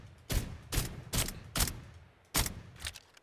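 Defender gun fired in the video game Farlight 84, six loud, sharp single shots spaced at a steady rhythm of about half a second, each with a short ringing tail, with no voices.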